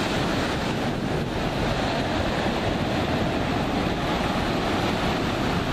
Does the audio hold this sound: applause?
no